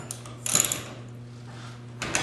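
A wrench loosens a nut on a Genie carriage trolley, making close metallic ratcheting clicks in two short bursts with a low mechanical hum underneath, and no talking.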